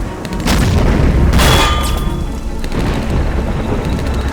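Booming artillery fire in the video game Blitzkrieg, a couple of loud heavy blasts with rumbling tails over continuous low battlefield rumble, close and dominant.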